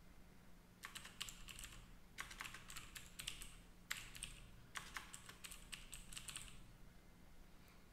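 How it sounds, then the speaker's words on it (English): Computer keyboard typing at a desk, several quick bursts of clicky keystrokes separated by short pauses, close and steady over a low background hum, with no voices. "type in the locations for which we need to perform search"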